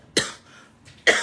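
Two sharp, loud coughs from a speaker during a Malay political speech, close to the microphone, about a second apart, with quiet room noise between them.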